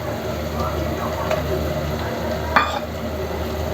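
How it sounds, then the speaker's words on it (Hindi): Ginger garlic paste fries in a pan with browned onion for a chicken gravy. A steady close sizzle runs throughout, with a spoon stirring and one clink against the pan. "इसमें अदरक लहसुन का पेस्ट डाल देंगे।"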